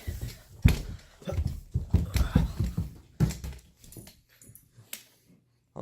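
Dogs whimper and yip close by in a burst of short, uneven whines and snuffles that trail off into quiet.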